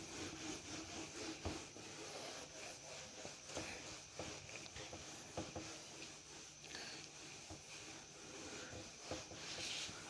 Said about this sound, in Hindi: रब कर देते हैं